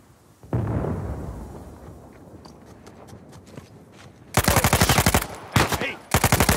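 Gunfire in the video game Uncharted 4: a few scattered shots and footstep-like clicks, then loud rapid bursts of automatic fire close by, broken by short pauses.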